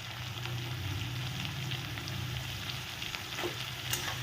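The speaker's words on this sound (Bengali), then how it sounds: "তো এখন পেঁয়াজটা একটু আধা আধি নরম করে ভেজে নেব।" Onions frying in a pan over a medium gas flame give a close, steady sizzle with light stirring scrapes, and no voices.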